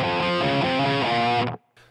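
An electric guitar runs through a Pod Farm metal amp preset, playing a short, dense, trebly distorted riff that fills about a second and a half, then cuts off abruptly with a faint tail and no talking.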